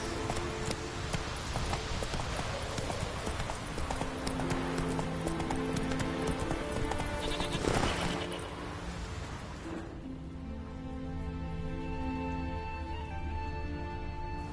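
Horse hooves clip-clop at a steady pace through a Witcher 3 game scene, dense and loud over a busy background for about ten seconds, then the mix thins while a faint tonal backdrop continues; a voice urges the horse on.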